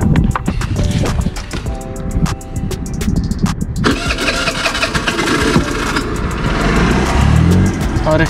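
A scooter engine being test-run after a repair for a microwave-like noise, starting up and revving hard over a steady mechanical drone, with broadband noise throughout and a brief voice beneath it.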